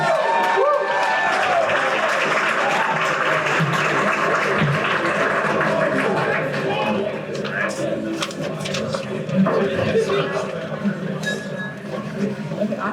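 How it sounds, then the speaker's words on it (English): Wedding guests applaud at a reception as the bride's parents are invited up, a dense steady clatter of hands near and loud with glassware clinks mixed in, fading slightly toward the end under murmuring voices. "Everyone give a round of applause!"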